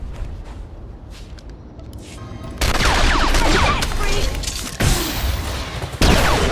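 Sustained blaster and gunfire bursts in the Star Wars: The Old Republic video game on Tatooine, loud, dense, overlapping volleys with brief breaks between bursts.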